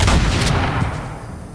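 Units fire in the fantasy strategy game Age of Wonders 4, giving one loud, booming shot-like burst that decays over a second and a half, with no voices over it.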